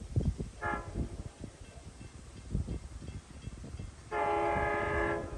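A two-car LIRR train, #6656, pulls into St. James station with low rumbling and clanking, then a loud horn blasts briefly early on and again in a long sustained blast near the end, heard from trackside.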